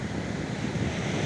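Cold sea waves wash steadily onto the shore, a continuous broadband surf wash with wind noise buffeting the microphone and no voices.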